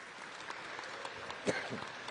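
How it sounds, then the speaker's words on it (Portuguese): Steady applause from a church audience, a broad even patter of clapping that holds for a couple of seconds with a slightly louder burst near the end. "Vamos aplaudi-los aqui, bem-vindos."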